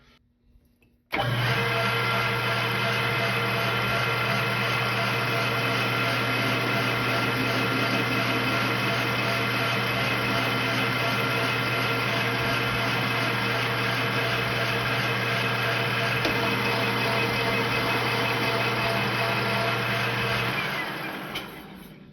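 A lathe runs steadily while taking incremental thread-cutting passes at 20 TPI on a .22 barrel tenon, a constant loud motor whine and hum with a faint cutting rasp, starting abruptly and running unbroken for about twenty seconds before winding down.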